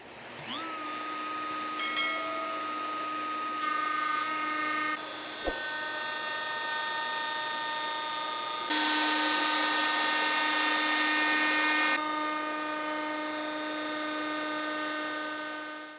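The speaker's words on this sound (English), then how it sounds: "now I got a binding channel cut all the way around my body" A power router cuts a binding channel around a rosewood Telecaster guitar body, a steady high-pitched whine that shifts in pitch as the cut proceeds, loud and close with no talking.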